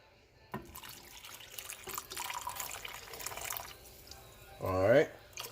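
Half a cup of water for turmeric tea trickles and pours into a cup, faint drips at first and then a louder, brief gurgling pour near the end, in a quiet room.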